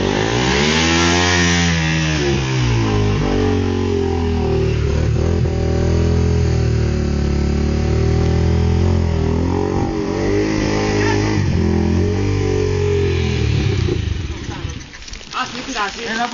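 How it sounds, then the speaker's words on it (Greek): An enduro motorcycle at a hard enduro event, its engine revving loud and close with rising and falling throttle blips, while people talk over it. "Λέω μόλις πάει εκεί θα δώσει γκάζι"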